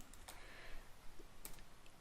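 Someone types an answer option into an online form on a computer keyboard, producing a quiet run of light key clicks with a couple of sharper taps, close by and with no talk.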